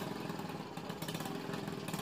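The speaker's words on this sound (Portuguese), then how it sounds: "esses barulhos de moto me incomodam demais" A motorcycle engine drones steadily in the background, a continuous muffled buzz heard indoors at low level.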